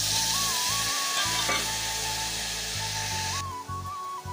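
Soaked dried mango pieces and dried chillies fry in hot mustard oil with a loud, close, continuous sizzle, and a thin steady whistling tone runs through the background.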